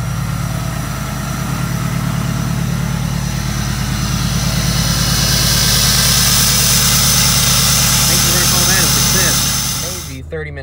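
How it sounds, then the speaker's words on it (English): A 6.7L Cummins diesel truck engine runs at a steady fast idle, a continuous low rumble with a faint high whine, ending abruptly near the end. "So we are going to kick on fast idle real quick."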